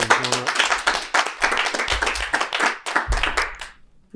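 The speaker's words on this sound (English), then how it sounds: "Can we start off with a round of applause?" Audience applause before a poem at a spoken-word event, a dense burst of many hands clapping close and loud for about four seconds before tapering off.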